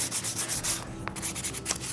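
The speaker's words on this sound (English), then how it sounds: "Then I've got my sanding sponge." Painted wood being sanded by hand with a damp sanding sponge, close rhythmic rubbing strokes in quick back-and-forth passes with a brief pause midway, no talking.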